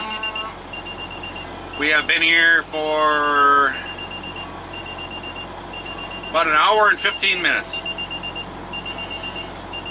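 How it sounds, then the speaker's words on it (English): A pager alarm gives a steady high electronic beeping in a regular repeating pattern that runs through the whole clip while someone speaks over it. "Well guys, you can hear our pagers going off."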